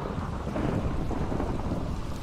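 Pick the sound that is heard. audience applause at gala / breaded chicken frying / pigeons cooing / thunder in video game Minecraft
thunder in video game Minecraft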